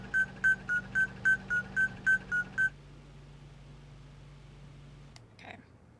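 In the Nancy Drew: Alibi in Ashes video game, a search gadget beeps about ten times in a quick, even run of bright, clear tones. A low hum follows, then a brief faint swish near the end.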